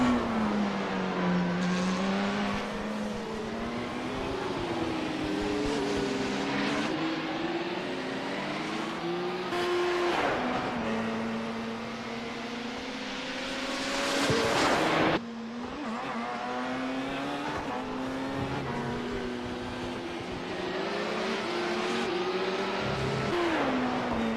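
Race cars roaring around the Montreal circuit, engines revving and shifting continuously with rising and falling pitch as cars pass, loud and close throughout with a brief surge near the middle.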